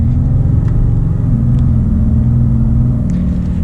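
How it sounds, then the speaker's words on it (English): A 2020 Ram 2500 Big Horn pickup with a Cummins diesel engine accelerating, a loud, steady low rumble that holds through the whole stretch with no talking. "hopefully you guys got to hear the Cummins there"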